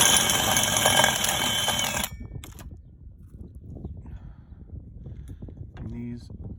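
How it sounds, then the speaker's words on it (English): A power drill boring a full half-inch hole for a rear hydraulic stabilizer arm, loud and close with a buzzing whine for about two seconds, then stopping as faint handling noises follow and a brief voice. "Drill your hole out. Make sure it's"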